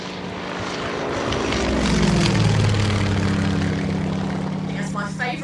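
A Yak 52 propeller aircraft flying a display manoeuvre runs head-on, then pulls up into a quarter clover; a loud, sustained engine and propeller drone rises and shifts in pitch as it passes, with a person speaking over it.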